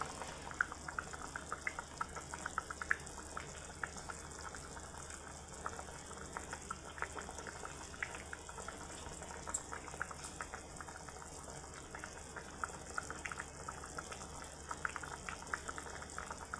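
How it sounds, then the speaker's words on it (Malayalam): A pot of sardine chili curry boils steadily on the stove, with soft, dense bubbling and small pops close by, quiet and continuous with no talking. "നന്നായിട്ട് തിളയ്ക്കുന്നുണ്ട്."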